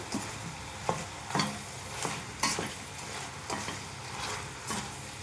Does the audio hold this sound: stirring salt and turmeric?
yes